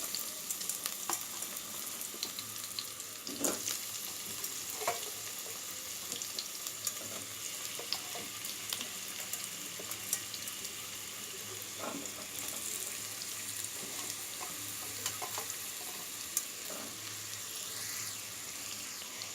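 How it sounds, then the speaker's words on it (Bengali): Jackfruit pieces fry with turmeric and salt in a pan, making a steady, soft sizzle with occasional crackles and stirring sounds, close by and without talking. "এঁচড়টাও আমি অল্প একটু হলুদ আর একটু নুন দিয়ে ভেজে নেব"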